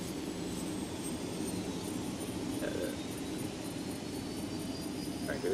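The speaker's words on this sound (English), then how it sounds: "Helicopter." A helicopter in the video game Soldiers of Anarchy gives a steady, even engine and rotor drone that holds at constant loudness throughout, with no voices.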